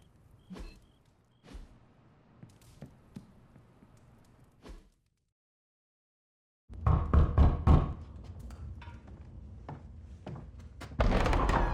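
A door in the video game Marvel's Midnight Suns is knocked on in loud, sharp, separated thuds, then a short silence before heavier bangs and clattering rumble follow.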